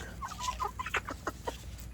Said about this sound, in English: we will be removing quite a few of the roosters that are in this flock